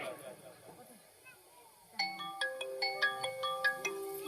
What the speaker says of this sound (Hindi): किसका मोबाइल बज रहा है?